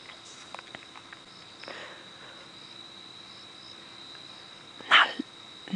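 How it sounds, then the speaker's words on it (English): Crickets and other insects chirp at night on a safari drive, a thin steady high trill running throughout at moderate level, with a few faint knocks and a brief louder rustle near the end. "Now it's just the insects, the crickets and things."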